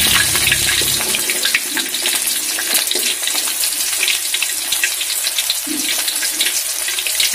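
Onions dropped into hot oil in a pan over a lowered flame while making sambal: a steady, bright sizzling hiss with crackling spatters, close and loud, with no voices.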